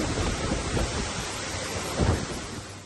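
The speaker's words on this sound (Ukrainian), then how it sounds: "Водоспад у Чамцу наче озвірів." A waterfall at Chamtsu in Crimea roars with high floodwater, a steady broadband rushing wash that fills the whole clip with a brief surge near the end.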